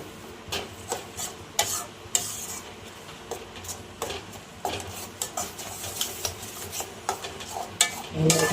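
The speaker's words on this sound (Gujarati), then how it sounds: "થોડીક વાર હલાવતા રહેવું।" Mango laddu mixture being stirred in a pan, a spoon scraping and clinking against the metal in irregular strokes over a faint background hiss, close and fairly loud.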